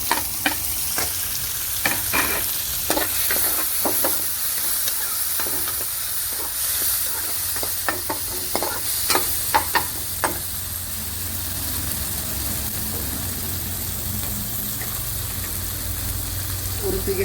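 Tomatoes and green chilies tipped into onions already fried red in a pan, sizzling steadily with repeated sharp scraping stir strokes through the first ten seconds, then a quieter continuous fry.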